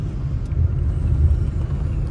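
A red MSRTC state transport bus from the Kankavli depot, bound for Vijaydurg, drives by on a foggy Konkan road with a steady, close engine rumble that holds throughout the short pass.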